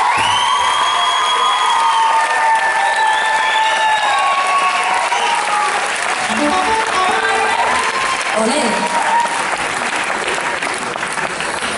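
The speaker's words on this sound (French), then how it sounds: "qu'on fasse un tonnerre d'applaudissements pour les personnes qui vont arriver" Concert audience in Aix applauding and cheering for arriving guests, dense steady clapping with whoops and shouts throughout, fading slightly toward the end.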